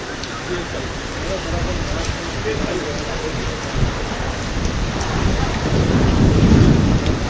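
A heavy downpour in Rupnarayanpur roars steadily close by, the dense hiss thickening toward the end, with a voice faintly present beneath the rain.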